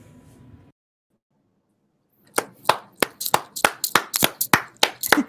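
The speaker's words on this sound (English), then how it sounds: "Oh, Sierra, I would like to say congrats and clap, clap, clap" Clapping after a livestream music performance: a low hum stops and a short silence follows, then about a dozen crisp, close hand claps come at a steady, even pace.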